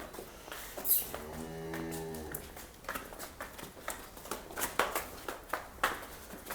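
A Jersey heifer at a village livestock fair lets out one long low moo close by, followed by scattered shuffles, knocks and thuds from the surrounding animals.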